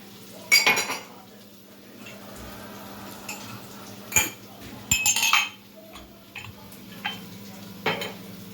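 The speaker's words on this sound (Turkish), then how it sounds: "dedim şu makineyi de boşaltayım da yemekten sonra Direkt kirlileri doldururum içine" Clean dishes being unloaded from a dishwasher at home, with clinking glass, rattling cutlery and clattering plates in irregular bursts over a quiet kitchen hum.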